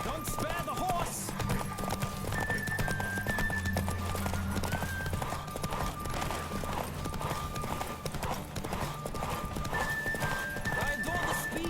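A horse gallops steadily in The Witcher 3, rhythmic clip-clop hoofbeats running throughout with occasional neighs, under game music and ambience.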